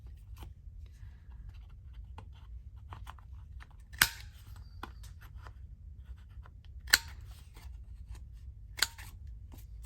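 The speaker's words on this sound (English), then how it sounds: "So I think I might snip these corners." Scissors snipping the corners of a small paper journal card, a few sharp distinct cuts spaced several seconds apart amid soft paper rustling and low room hum, close and quiet, no talking.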